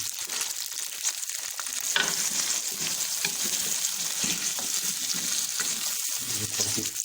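Chicken frying on high flame in a pot for biryani, a continuous bright sizzle with intermittent stirring and scraping, close and steady, no talking.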